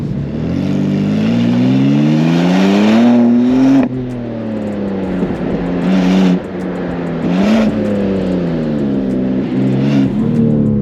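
A BMW M2 drives over a bumpy road, its engine loud and close with repeated rising and falling revs as it accelerates and eases off between gears.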